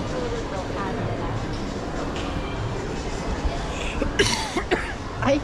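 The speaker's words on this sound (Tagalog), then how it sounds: "Ay, sorry po. Ubo ako." A few short coughs near the end, over a steady rumbling background like a moving train, with some faint talking.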